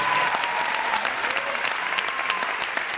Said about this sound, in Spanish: Un aplauso para Maxi, por favor.